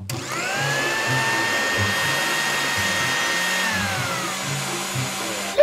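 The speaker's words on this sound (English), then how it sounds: "Start putting all the stuff into the blender now." Blender whirring through strawberries and blueberries for a smoothie, a loud steady motor whine holding for several seconds before winding down, with people talking underneath.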